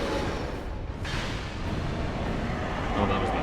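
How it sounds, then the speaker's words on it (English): An explosion in the video game Dark Souls 2 booms loud and sustained, a heavy rumbling blast that fills the whole stretch with dense, roaring noise and barely eases before the end. "Oh, that was the explosion."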